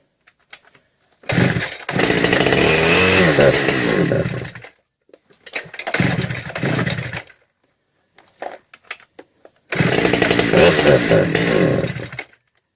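Husqvarna 394xp chainsaw running rough on choke, firing up in three separate loud bursts of about three, two and three seconds, each cutting off into near silence between.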